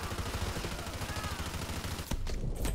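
Rapid automatic gunfire rattles without pause in Modern Warfare 2 Remastered's "No Russian" mission, a dense fusillade with faint murmuring underneath and a sharper, louder burst near the end.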